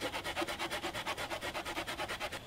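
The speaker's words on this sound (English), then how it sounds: "I'm gonna go ahead and saw through here and make 3 additional poles." Hand saw cutting through a wooden pole outdoors, with rapid, even back-and-forth rasping strokes, about eight per second, close and steady, with no talking.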